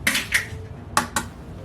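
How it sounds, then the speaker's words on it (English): An egg goes into a mixing bowl of batter for a vintage 1937 white fruit cake, giving a few sharp, close clinks and taps against the bowl, spaced apart with no talking. "in goes 1 egg"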